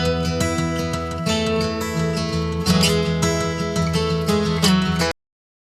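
Music plays with bright, piercing upper tones and thin body, a continuous harsh-sounding mix that stops suddenly near the end.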